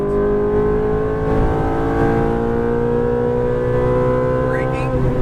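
A Ferrari F430 on a race track revs hard as it upshifts, its engine note climbing in a steady, loud, close drone with rising harmonics and a brief shift near the end.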